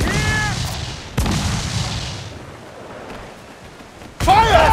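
Ship cannons fire in the game Assassin's Creed 4 Freedom Cry, three heavy booms spaced a second or more apart, with rumbling decay, seagull-like cries and shouted voices among them.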